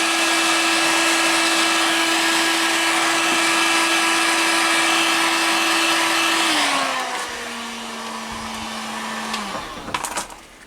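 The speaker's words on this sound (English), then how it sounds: "be careful with a heat gun because it will melt stuff" A heat gun blows hot air on heat-shrink tubing while wiring tail lights on a Reliant 850 trike. It gives a loud, steady whooshing blow with a constant motor whine that drops in pitch and fades near the end, followed by a few clunks.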